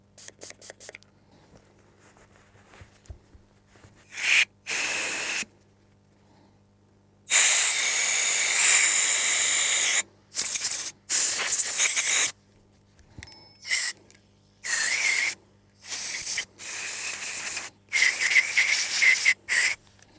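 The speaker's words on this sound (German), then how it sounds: "Ganze Thematik wird hier mit Kaltentfetter versorgt, ausgeblasen und nachgeölt" Cold degreaser sprayed from a can into Benelli M4 Super 90 shotgun parts, long hissing bursts and shorter spurts separated by pauses, loud and close, with faint handling clicks of the metal parts.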